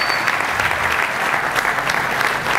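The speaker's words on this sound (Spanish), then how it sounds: "Yo quiero que le demos un aplauso a los chicos del sonido" A festival audience breaks into loud, sustained applause for the sound crew, a thick even roar of clapping hands up close with no one talking.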